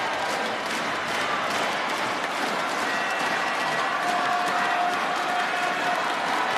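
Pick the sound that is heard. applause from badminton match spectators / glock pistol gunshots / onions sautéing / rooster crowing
applause from badminton match spectators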